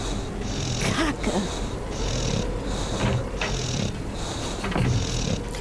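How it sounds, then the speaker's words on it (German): Loud, rhythmic snoring in the Deponia video game, slow deep breaths repeating about every second, close and prominent, with no talk over it. "Ich finde, das Schnarchen ist extrem laut."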